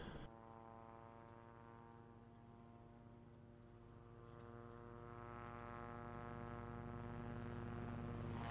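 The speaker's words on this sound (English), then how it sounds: "Stupid plane." A propeller airplane drones overhead in the zombie survival game Project Zomboid, a low engine hum that starts steady and swells louder as it passes close, with no talk over it.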